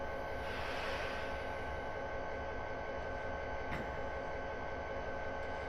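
Train driving in the Castle Rock Railroad video game, hauling a cement load: a faint, steady rolling rumble with a constant hum and a faint sharp click partway through.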